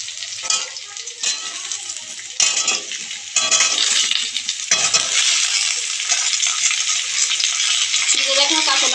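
Kohlrabi pieces and lightly fried potato are tossed into hot oil in a pan, giving a loud continuous sizzle broken by repeated scraping stirs and bursts of spattering as the vegetables go in.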